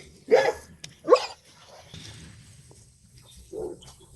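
Two short, hoarse barks from a nearby young Kangal dog in quick succession, then quieter rustling and a softer huff later.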